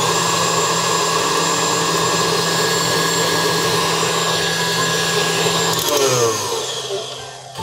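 A stand mixer beating eggs for carrot spice muffin batter, a steady loud whirring motor hum that winds down near the end as it stops.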